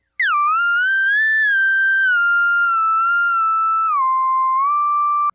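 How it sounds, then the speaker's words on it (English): A Korg R3 synthesizer plays a dry lead whistle patch in the 1970s style, a single sustained sine-like tone that glides gently between pitches, loud and clean, with no voices. "it's the West Coast whistle, and I have my Korg R3 here"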